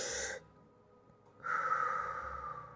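A person breathes out slowly and audibly during a fascial stretching exercise, lying curled in a fetal position. Two soft breathy exhales, one brief and one longer, are separated by a quiet pause.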